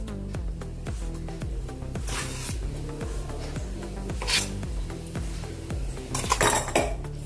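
A spoon mixes wheat flour and rice flour with butter and sugar in a bowl for homemade biscuits, scraping in fast, regular strokes with metallic clinks and gritty rubbing, close and without talk.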